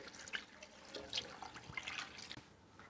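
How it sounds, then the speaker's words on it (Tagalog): Tap water running into a cooking pot with chicken gizzards, a quiet, uneven splashing and trickling nearby, fluctuating gently throughout. "Lalagyan ko lang ito ng tubig."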